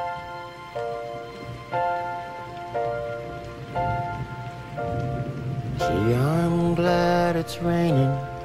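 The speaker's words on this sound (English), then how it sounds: "I'm awfully glad it's raining" Steady rain patters throughout beneath repeated tonal chimes, then a swelling sliding musical chord rises over the rainfall near the end.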